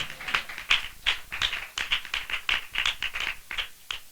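A church congregation claps in a steady, fairly quick rhythm, about a dozen close, sharp, bright claps at even spacing with no talk over them.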